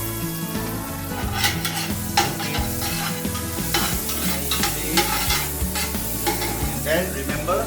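Shallots sizzle in a hot pan as a base for congee, with a steady loud frying hiss while a utensil scrapes and clatters against the pan in repeated stirring strokes.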